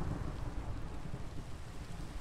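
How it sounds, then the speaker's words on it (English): Minecraft thunderstorm ambience: a low, rolling rumble of thunder with steady rain hiss, continuous and fairly loud throughout, no voices. "Bro, it's thundering out."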